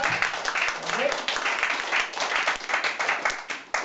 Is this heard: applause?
yes